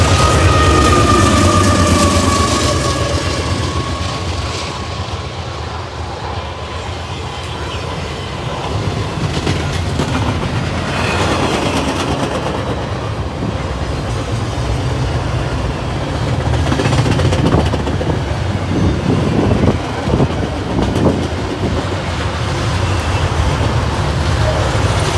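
A train on Union Pacific rails, led by a Southern Pacific patch locomotive, rolls by loudly and continuously with rumbling wheels, rail clatter and a horn-like tone early on, close by and sustained throughout.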